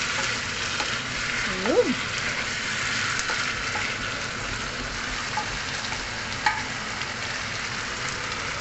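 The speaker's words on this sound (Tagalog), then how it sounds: "Mix with tomatoes, ang ating chicken curry." Chicken curry with coconut milk and tomatoes sizzles and fries steadily in a pan while being stirred, a close, continuous hiss with occasional utensil scrapes and a short spoken word over it.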